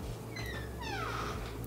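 A house cat that has wandered indoors lets out two rising, slightly whiny meows in quick succession, fairly faint over a steady low background hum.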